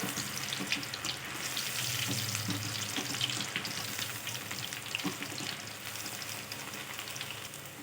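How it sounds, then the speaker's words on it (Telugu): Pasta fries in hot oil for a homemade kurkure-style snack, giving a steady, dense crackle and bubbling that stays close and continuous throughout. "ఇలా ఆయిల్లో వేసుకొని వేయించుకోవాలి"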